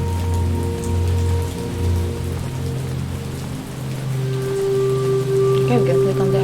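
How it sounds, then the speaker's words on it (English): Steady rain falls in a video game scene, a dense continuous hiss throughout, with a low game tone underneath and faint chiming notes near the end. "It's a bit rainy today."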